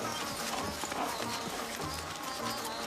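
Horse hooves clip-clop in a steady, quick rhythm while a horse is ridden through countryside, faint and fairly distant, with a little talk mixed in.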